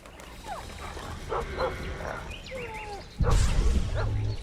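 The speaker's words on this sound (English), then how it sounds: "Doggo is barking." A dog barks a few times amid game sound effects and ambience in The Witcher 2, followed by a sudden loud, low rumbling burst near the end.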